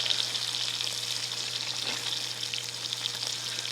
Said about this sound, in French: On retourne notre foie.